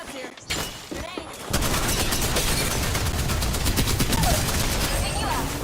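Video game gunfire starts with a few scattered shots, then breaks into a loud, sustained rapid barrage of repeated cracks, with a voice speaking over it.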